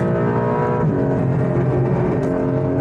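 GT3 race cars roar past at close range on the Nürburgring Nordschleife, a loud continuous engine drone with shifting pitch as they go by.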